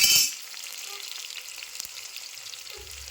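Sliced onion and halved green chilies fry in oil in a pan with a steady, crackling sizzle, close and fairly loud, and a few stirring scrapes come through the hiss.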